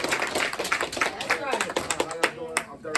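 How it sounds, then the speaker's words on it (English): A small group claps in a community meeting conference room, sparse uneven claps heard close under continuous talking and cheering voices. "Give me a round of applause, y'all."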